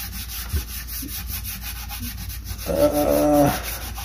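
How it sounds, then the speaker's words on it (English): Firm back-and-forth scrubbing of a Ghostbusters Afterlife proton pack ribbon cable, soaked with oven cleaner, makes close rasping strokes at an uneven pace. A louder, buzzier stretch of rubbing comes near the end, and no one speaks. "it's helping if you scrub it really good"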